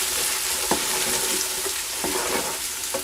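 Spices for a lamb curry fry in hot oil with garlic on a gas hob, a constant bright sizzle broken by several scraping spoon strokes as they are stirred. The sound is close and has no talk over it.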